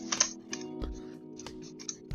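Someone types a username on a computer keyboard, a short run of close, light key clicks in an irregular rhythm over a faint steady hum, with no talking.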